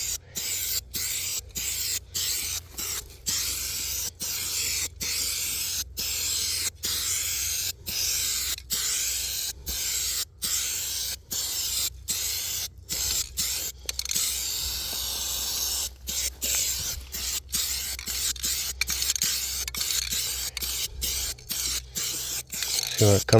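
A Rust-Oleum aerosol spray paint can with a custom fan nozzle hisses steadily for a long stretch, broken by brief regular pauses as the nozzle is released and pressed again.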